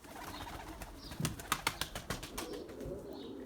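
Pigeons in a breeding loft make soft, close sounds, with a series of sharp wing-flapping claps in the middle over a low background murmur of cooing.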